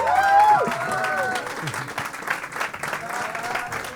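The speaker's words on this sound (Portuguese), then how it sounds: "Mais aplausos pra Júnior Chico!" A comedy show audience applauds steadily for the performer Júnior Chico, a broad wash of clapping with voices and cheers mixed in near the start.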